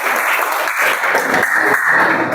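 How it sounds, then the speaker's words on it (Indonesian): Students in a classroom clap together briefly after a correct answer, a short burst of close, somewhat uneven applause with no voices. "Silakan tepuk tangan."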